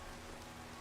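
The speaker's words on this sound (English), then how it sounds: "it's pouring down rain" Heavy rain pouring down in the Minecraft video game, a dense, even hiss of steady rainfall with no breaks.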